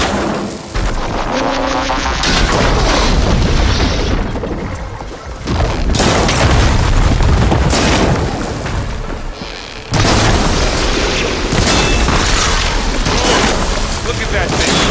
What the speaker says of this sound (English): it looks like Zoe's giving us some supporting fire